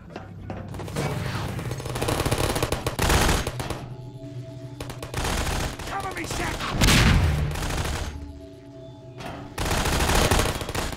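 Automated turrets in Half-Life 2 Episode Two fire several loud bursts of rapid gunfire separated by short pauses, with booming impacts and voices talking between the bursts.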